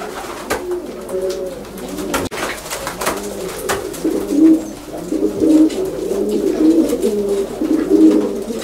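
Racing pigeons in a breeder's loft coo close by, with repeated soft, throaty calls that overlap in a continuous rolling chorus.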